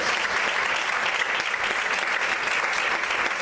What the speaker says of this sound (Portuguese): Aplauda a Deus, aleluia.